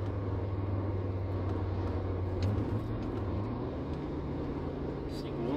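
Inside the cabin of a Fiat Marea 2.0 20v turbo with its five-cylinder engine, a steady low engine drone hums continuously at moderate level, shifting slightly in pitch midway as the car changes gear.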